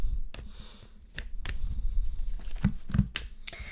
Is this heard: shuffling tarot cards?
yes